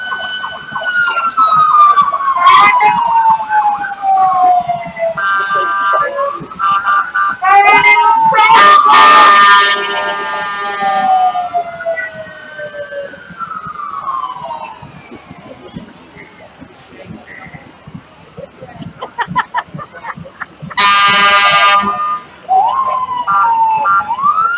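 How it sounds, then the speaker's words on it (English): Fire and rescue vehicles roll past in a nighttime Christmas parade of lights in Chipley, Florida, their sirens wailing and whooping loudly, with several rising and falling sweeps and short horn-like blasts over crowd noise and occasional talk. "We've got more of Chipley Fire and Rescue coming by here."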